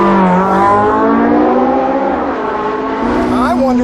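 Porsche 918 Spyder with all-wheel drive accelerating hard out of a tight second-gear turn on a track, a loud sustained engine note climbing steadily in pitch, with a voice talking over it.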